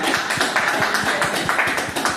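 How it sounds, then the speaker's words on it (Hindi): Audience applause at a business training seminar, a dense steady wash of many hands clapping with no voices. "इनके लिए मैं चाहूँगा एक बार जोरदार तालियां"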